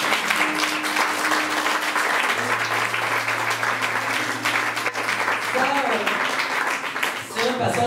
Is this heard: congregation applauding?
yes